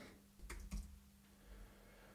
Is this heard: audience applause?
no